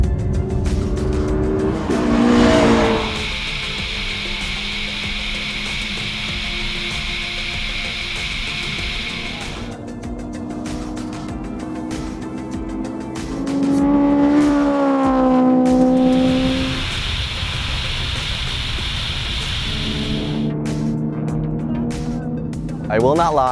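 A JDM Honda Civic Type R races at a Redline Time Attack track event, its engine revving hard and rising in pitch through the gears, with tire squeal in places and steady loud drive noise throughout.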